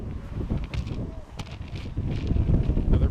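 A big gust of wind buffets the microphone at an outdoor high school baseball game, a loud rumbling low roar that swells and surges unevenly throughout.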